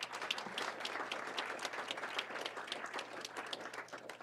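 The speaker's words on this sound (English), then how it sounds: "If we could have a round of applause for that group." A room at a board of education meeting gives a round of applause, many hands clapping in a brisk, fairly even patter at moderate volume, with individual claps standing out from the crowd.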